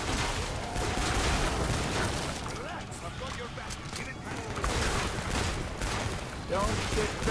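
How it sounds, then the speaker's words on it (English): Dense, continuous gunfire in the co-op video game Killing Floor 2, rapid overlapping shots and bursts filling the whole stretch with loud, busy noise, with players talking over it. "Shooting."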